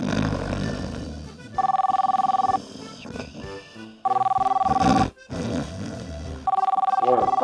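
A telephone rings in repeated bursts, loud and close, with short pauses between rings and a voice speaking in the gaps.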